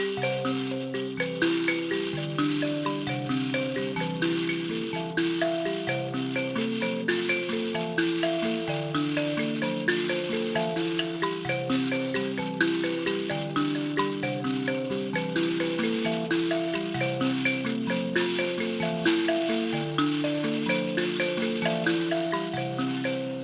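A Nyamaropa-tuned mbira plays a repeating pattern of deep, plucked low notes, with a buzzy rattle riding over the tones.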